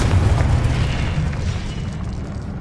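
Confringo explosive spell in the video game Hogwarts Legacy, a loud, low booming blast that rumbles and slowly fades over a couple of seconds.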